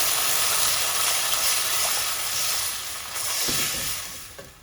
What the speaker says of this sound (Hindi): अब ये जो हमने सॉस वाला मिक्सचर तैयार किया था इसको एक दफ़ा और मिक्स करके ये सारा हम इसमें ऐड कर देते हैं। तो मिक्स करें।